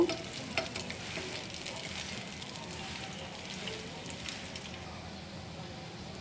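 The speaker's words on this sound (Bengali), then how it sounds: "এখানে আমি লাল লাল করে এগুলো ভেজে নিয়েছি এগুলো ভাজা প্রায় হয়ে গেছে" Onion fritters (peyaju) deep-frying in hot oil, a soft continuous sizzle with occasional stirring and turning of the pieces, fairly quiet and close, with no speech.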